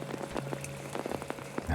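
Scattered raindrops tap a surface in the video game Apsulov: End of Gods, a soft continuous patter with clear individual hits and no voices.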